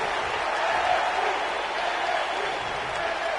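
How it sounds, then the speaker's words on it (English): Wrestling crowd at an MVWF versus NXT event, a dense, steady roar of many voices chanting NXT, loud and continuous throughout with no clear breaks. "this crowd chanting NXT at Adrian Knight"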